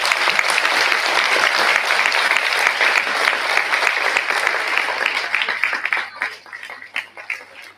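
A stage event for World Environment Day and Menstrual Hygiene Day erupts in loud, sustained audience applause as people walk on, the dense clapping holding steady before thinning into scattered claps at the end.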